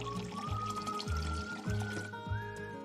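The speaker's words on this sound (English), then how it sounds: "For chilled water, push the control back to dispense." Chilled water pours steadily from a Zip HydroTap Arc tap for a few seconds, a soft continuous liquid stream with a tonal hum running underneath.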